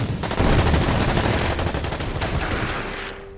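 Tank battle gunfire in the strategy game Order of Battle: World War II, a dense burst of rapid machine-gun style shots blending into a loud continuous roar that fades out after about three seconds.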